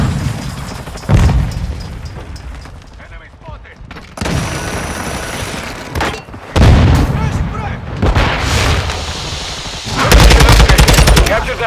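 A Semtex grenade explosion and gunfire in Call of Duty: Modern Warfare II hardcore multiplayer, with heavy booms and dense bursts of automatic fire, loud and close, mixed with game voice callouts.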